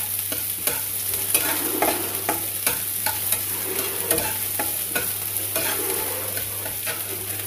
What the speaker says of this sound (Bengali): পেঁয়াজ, যেটা ফাইনলি চপ করে রেখেছি সেটা আমি এখানে দিয়ে দিচ্ছি। একটু বাদামি বাদামি করে ভেজে নেব।